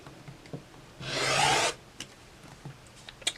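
A rotary cutter slices through fabric laid along a ruler in a single smooth, rasping stroke lasting under a second, close and fairly loud, with faint small handling clicks before and after.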